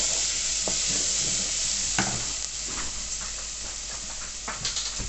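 Winter chilli mince hisses softly in a hot pan while being mixed, with a few scraping stirs over a steady frying sizzle.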